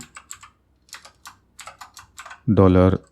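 Typing code on a computer keyboard while writing a Laravel PHP ecommerce backend, heard as short irregular bursts of key clicks with brief pauses, ending in a loud, harmonically rich burst that sounds like a voice or other noise.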